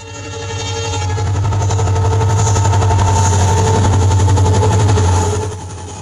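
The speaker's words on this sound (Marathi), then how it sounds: "या रेल्वेच्या रुळांवरून रेल्वे धावतानाचा आवाज काळजीपूर्वक ऐका" A train rumbles steadily along the rails with a rapid rhythmic clatter. The sound swells up, holds loud, then eases off near the end. No voices.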